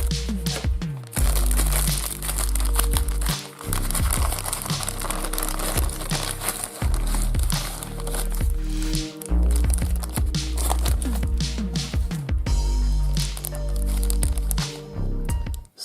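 Plastic bag from a Poedagar 613 watch crumpled and crinkled close up, with continuous crackling and squeezing over about sixteen seconds.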